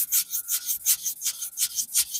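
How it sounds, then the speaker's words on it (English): Worn 220 grit sandpaper lightly sands a sarkanda reed float, giving a steady back-and-forth hiss of soft strokes, about eight in two seconds, close and even. "Just a very, very light sanding."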